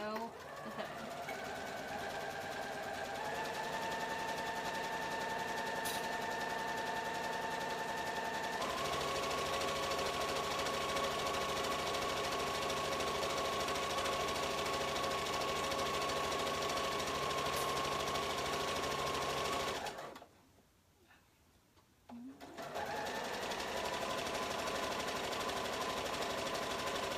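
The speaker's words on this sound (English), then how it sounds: "And so just sew the hood." Sewing machine running steadily while stitching the hood of a brushed sweater-knit cardigan with a shortened stitch length, a continuous close hum that pauses briefly near the end before starting again.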